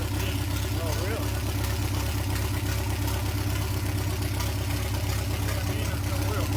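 A Triumph TR4A car engine runs at its first start with the choke on, holding a steady, rough idle close to the microphone while people talk over it.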